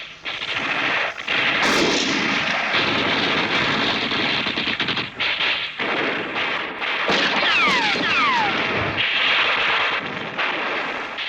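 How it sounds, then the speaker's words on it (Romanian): Dense war-film gunfire with sniper bullets, sharp shots and bursts crackling almost continuously, with whistling ricochets midway, loud and close throughout. "Astea-s gloanțe de lunetici, domnul sublocotenent."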